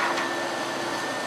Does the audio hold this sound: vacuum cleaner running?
yes